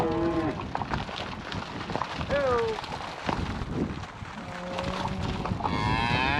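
Cattle on a cattle drive low and moo several times at moderate distance, drawn-out calls spread across the scene with light wind in the background.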